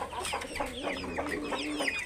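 Australorp chicks and other farm chickens clucking and peeping continuously at close range, a busy overlapping chorus of short calls with no talking.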